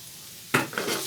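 Minced keema frying on a hot tawa with green chillies, stirred by a utensil: after a quiet moment, an abrupt scrape and sizzle break in, followed by a couple more stirring strokes over a steady fry, with nobody speaking.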